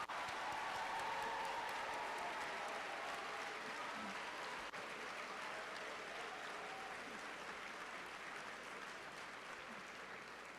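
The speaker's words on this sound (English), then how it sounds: "Let's have one more round of applause for every single team." Applause for every competing team at a national finals awards ceremony, a large audience clapping steadily and loudly throughout and easing slightly toward the end.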